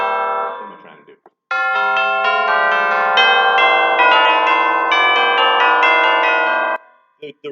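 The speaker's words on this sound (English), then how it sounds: "Chimes, like the crotales are not used as often melodically" Metallic chimes are struck in a run of bright, overlapping notes that ring and build into a sustained shimmering wash, then cut off, followed by a few brief taps.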